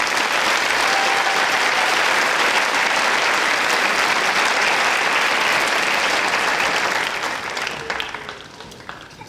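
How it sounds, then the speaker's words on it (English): Audience applause at the Harvard High School Class of 2025 graduation, a dense, steady clapping crowd honoring faculty, holding loud and continuous before tapering off at the end. "Let's give them a round of applause."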